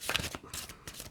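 Tarot cards are shuffled for a reading, giving a short, close flurry of papery riffles in three quick bursts, quiet and alone with no voice.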